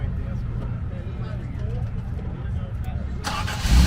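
Low engine rumble in the background at an 1980s car show, then near the end a car engine cranks and catches with a sudden loud roar.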